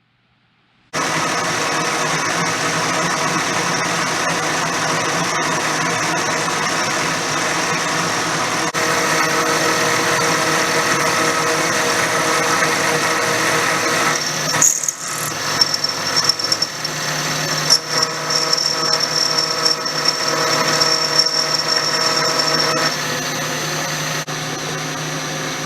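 A milling machine runs continuously in a gun workshop while a set trigger for a heavy 1876 rifle is being made, a loud steady whine with shifting tones and brief cutting changes toward the end.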